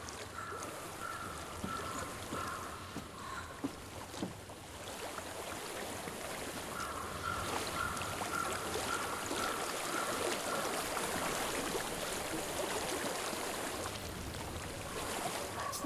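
Steady broadband rush of a flowing stream in the game Hellblade: Senua's Sacrifice, continuous and fairly loud throughout with a slight swell partway in, no voices over it.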